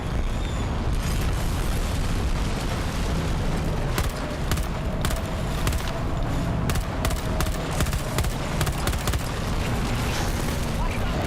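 A tornado roars in during a video game shooter, a loud continuous rumbling wind with low booming energy and scattered sharp cracks and pops breaking through across the whole stretch.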